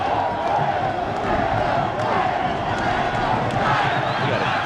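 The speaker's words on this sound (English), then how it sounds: "We got a great crowd here tonight. They've been making noise since before the opening whistle." Stadium crowd at a 1998 Open Cup soccer match between Chicago Fire and Columbus Crew, a loud continuous roar of cheering and chanting that holds steady throughout, with no clear break.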